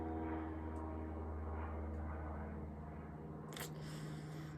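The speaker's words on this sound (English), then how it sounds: "Sorry, a plane is flying by." A propeller airplane drones steadily overhead throughout, a continuous low engine hum with no talk.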